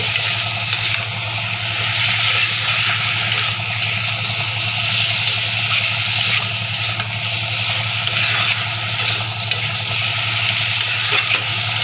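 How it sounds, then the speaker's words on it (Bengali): Spices and chili powder sauté in hot oil for a rui fish curry with ridge gourd and potato, making a loud, continuous sizzle with a steady low hum beneath it. "এবারে এগুলো আমি ভালো করে কষিয়ে নেব।"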